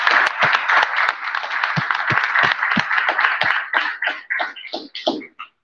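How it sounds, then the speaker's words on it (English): An audience at an author series event at a cultural arts center applauds, dense clapping that thins into a few scattered final claps before stopping. "We should applaud Dolores and Gabby."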